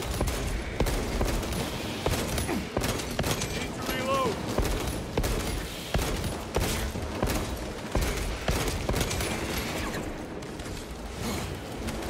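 Sustained gunfire and a dense battle din fill a fight in Warhammer 40,000: Space Marine 2, continuous rattling shots and impacts layered under someone talking.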